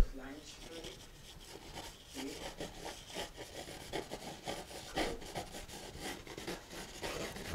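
A painting knife scrapes paint across canvas in repeated rough, rasping strokes, close and fairly quiet, forming a landscape of mountains.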